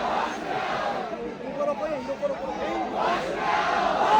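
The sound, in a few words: large protest crowd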